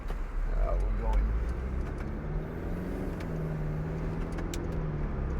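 A 2012 Mercedes-Benz SLK250 CDI BlueEFFICIENCY AMG Sport diesel roadster drives along with a steady low engine drone and road rumble, fairly loud and continuous throughout.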